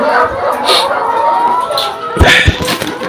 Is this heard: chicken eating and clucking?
yes